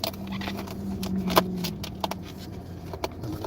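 Coins jingle and clink faintly beside a parked car on a street with metered parking, a few scattered metallic taps over low traffic rumble.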